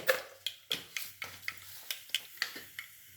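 Mustard seeds dropped into hot oil for tempering while cooking a moong dal and rice sundal, giving about a dozen sharp, close crackling pops at irregular intervals over a faint sizzle.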